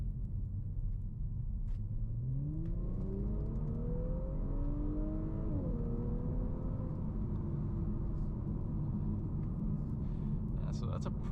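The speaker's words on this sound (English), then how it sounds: "So I'm gonna get the car up to 25 miles an hour and then just kind of punch it" Audi S5 with 349 horsepower accelerating hard from 25 mph, the engine note climbing steeply through the revs, a brief shift dip, then settling into a sustained roar over a heavy road rumble inside the car.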